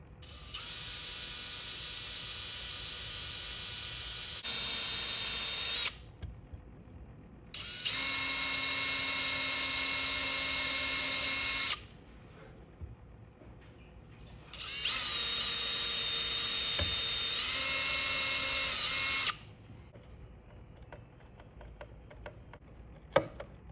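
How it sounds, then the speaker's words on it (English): A power drill whines in three sustained bursts of several seconds each while boring into a skateboard deck, separated by short pauses, close and loud. "So let's drill."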